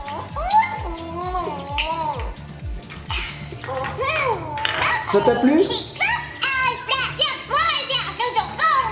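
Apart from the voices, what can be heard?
Luvabella interactive baby doll babbling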